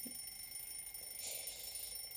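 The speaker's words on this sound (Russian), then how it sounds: "Надо завести будильник." An electronic alarm clock rings in a video game, a faint, steady high-pitched tone running throughout with a brief brighter swell midway and no voices.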